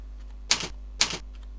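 Typing on a computer keyboard while entering code in Visual Basic: two quick, close bursts of keystroke clatter separated by a short pause, with no talking.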